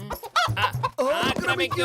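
Cartoon chicken clucking in a Motu Patlu episode, with animated clucks sounding close and loud, overlapping excited dialogue between voices.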